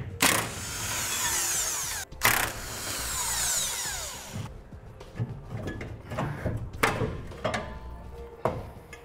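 Tools loosen and remove 21 mm bolts from a trailer hitch mount on a 2015 Chevrolet Silverado 2500 while a helper holds the hitch up: two long buzzing impact-tool bursts, followed by scattered metallic clinks and rattles of the bolts.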